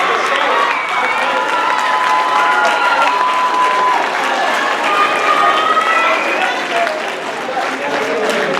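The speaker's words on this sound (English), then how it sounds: "Give a big round of applause." Loud applause fills a house meeting as the standing crowd claps continuously, mixed with cheers, scattered shouts and busy crowd noise throughout.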